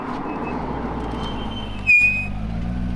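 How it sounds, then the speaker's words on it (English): Car brakes give a short, sharp squeal at a fast car meet, rising briefly over a steady roar of engine and road noise, then fading as the rumble carries on. "Ooh, squeaky brakes."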